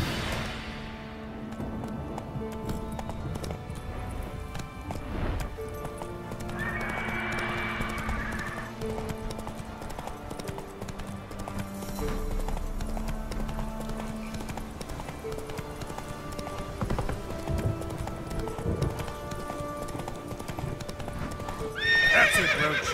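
In Witcher 3, Roach gallops with loud, dense hoofbeats throughout, breaking into a neigh partway through, with game ambience and music underneath.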